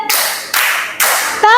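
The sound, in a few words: class clapping three times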